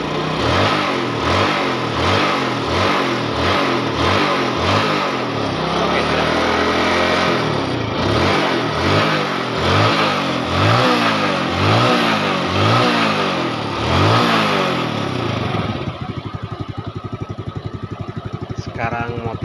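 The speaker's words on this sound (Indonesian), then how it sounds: "Sekarang motornya hidup, sudah mulai normal, sudah bertenaga, jadi ini tarikannya tidak berat lagi" A Yamaha Vega ZR motorcycle engine, fresh from an oil pump repair, runs close and loud with a rapid rhythmic firing pulse. It is revved repeatedly in steady surges, then settles toward idle near the end.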